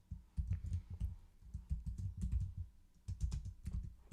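Rapid bursts of typing on a computer keyboard, close and crisp, with clustered keystrokes separated by brief pauses, no talking.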